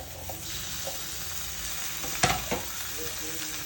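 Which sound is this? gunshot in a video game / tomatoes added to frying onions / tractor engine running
tomatoes added to frying onions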